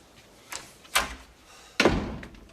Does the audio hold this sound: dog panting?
no